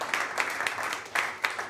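Audience applause for a sports event team at a Prague playoffs prize-giving, a steady patter of clapping with several sharper bursts, fairly close and without talk.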